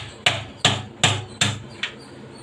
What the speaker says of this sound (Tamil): காலை மட்டும் ஒரு தட்டை தட்டி வச்சிங்க.